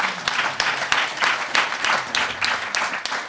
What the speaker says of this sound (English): Big round of applause for all of the other musical accompaniments